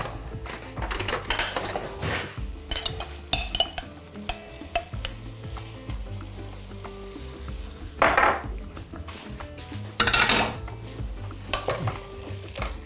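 A spoon stirs tomato paste into a simmering beef and bean soup in a pot, giving soft sizzling with scraping swirls and sharp clinks of metal on the pot's side in irregular bursts.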